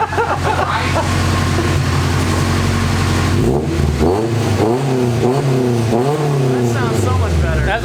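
A Honda CRX engine with a silencer-fitted exhaust revs loudly and repeatedly, rising and falling in pitch with a throaty exhaust roar, close by and dominating the scene.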